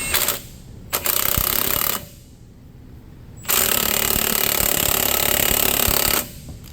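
A puller being driven by an air impact wrench to pop the primary clutch off the shaft of a John Deere ATV, loud rattling hammering bursts of about one and a half and three seconds separated by quieter gaps.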